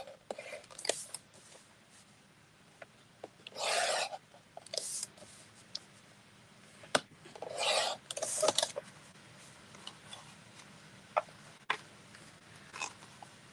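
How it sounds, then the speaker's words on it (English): A blade rasps through a board to cut out a window, heard as a few short bursts of scraping in an otherwise quiet room with faint handling noises between strokes. "now I'm just going to cut a window out of here."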